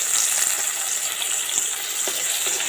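Tomatoes sauté in ghee and oil with a steady, close hiss of frying that holds evenly throughout, with no one talking.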